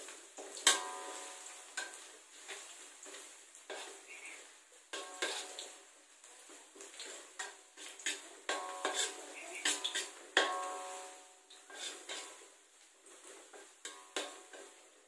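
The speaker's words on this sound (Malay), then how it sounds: "Goreng sampai kuning sahaja, tak perlu garing." Food sizzles in a pan while utensils clink and scrape against it in irregular bursts, fairly quiet and close, with no talking.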